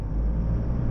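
A 2025 Toyota Prado 250 GX labours up a steep rough climb with its center differential locked, its engine giving a steady low rumble heard from close inside, alone and unbroken for about a second.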